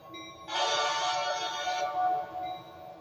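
A steady electronic tone with bright harmonics switches on abruptly, holds for over a second, then fades to a softer hum, from an inexpensive onboard sound unit in an O gauge toy train locomotive.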